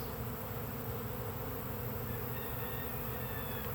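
Bees from several swarms merging into one hive, a dense, steady buzzing drone filling the whole short stretch, close and continuous with no voices.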